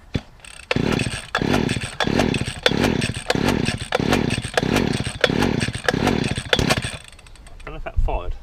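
Stihl FS40 strimmer engine being pull-started on manual choke, a run of about ten rhythmic, loud rasping pulls, each a short burst of mechanical noise, with no clear sign of the engine catching.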